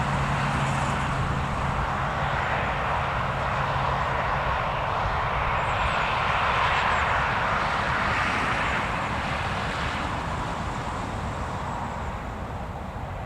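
Learjet jet taxiing at Newcastle Airport, a steady broad jet whine and rumble heard from a distance, continuous and fairly loud with wind-like noise throughout, no talking.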